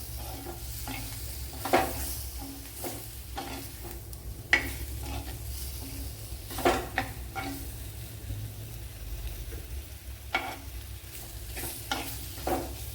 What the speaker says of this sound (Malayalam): ഇതിലേക്ക് ഇനി കഴുകി വെച്ചിരിക്കുന്ന ഉണക്കമീൻ ഇട്ട് കൊടുക്കാം നമ്മുടെ ഡ്രൈ ഫിഷ്